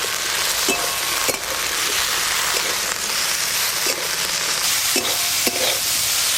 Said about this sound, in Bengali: লবণ হলুদ দিয়ে ভেন্ডিগুলো ভালো করে ভেজে নেব